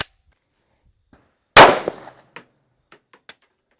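A single sharp handgun shot fired as a live round after a tap-rack drill, loud and close, followed by a short metallic rattle and a few faint clicks and clinks.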